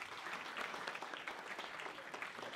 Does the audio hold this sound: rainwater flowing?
no